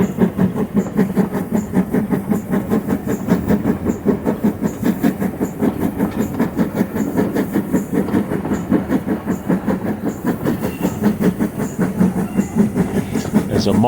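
A steam locomotive hauling a train on the Bodmin steam railway, heard close with a steady rhythmic clatter of wheels over rail joints and a continuous hiss, loud and unbroken throughout.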